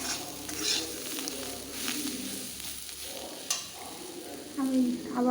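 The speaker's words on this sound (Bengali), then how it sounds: "বারবার নেড়ে চেড়ে দিচ্ছি যাতে তল থেকে লেগে না যায়।" Onion stalks fry in a pan with a soft, steady sizzle while a utensil stirs them, scraping and clinking at irregular moments; faint background sounds and a short tonal sound near the end sit under the frying.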